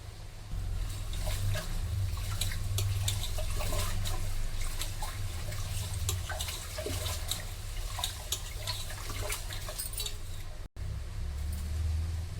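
Ration rice being washed by hand in water, a continuous close sloshing and splashing with small clinks and trickles, steady throughout with one brief break near the end.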